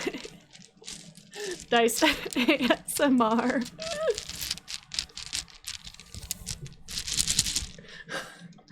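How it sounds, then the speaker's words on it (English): Dice clatter and click inside a strawberry dice bag, a quick patter of small hard taps that comes in bursts, with a voice speaking briefly over the first part. "who wants to look at my new dice bag? Dice ASMR."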